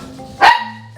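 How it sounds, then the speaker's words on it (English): A single sharp, close dog bark rings out loud and alone indoors, cutting off quickly into silence. "I'm the guard dog of the house"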